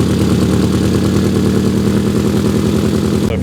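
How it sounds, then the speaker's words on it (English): A car engine runs loudly and steadily with a big exhaust leak, its rapid, throaty pulsing putter close by and unbroken, with no one talking. "I'd say we found a big exhaust leak"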